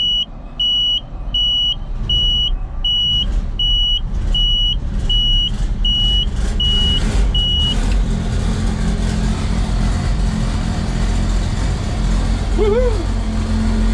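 A tractor engine cold-starting after snow with no block heater plugged in, then idling as a loud, steady rumble. A repeated beeping alarm runs during the start, and a voice cheers briefly.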